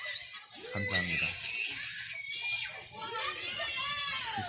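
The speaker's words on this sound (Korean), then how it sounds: "소리를 지르고 있는 모습을 보니까" Children at a church outing shriek and squeal with excitement during water play, high-pitched screams overlapping in bursts with shouting kid voices throughout.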